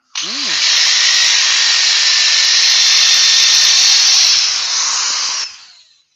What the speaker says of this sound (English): Just sanding this to 240.